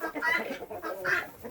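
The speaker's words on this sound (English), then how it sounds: "He's going around, making sure that all the juvenile roosters are in check." Two short rooster calls, close by, separated by a brief pause, with faint background noise.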